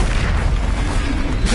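A Confringo blasting curse from Hogwarts Legacy erupts as a loud, dense booming explosion that rumbles without a break for the whole moment, with no voice over it.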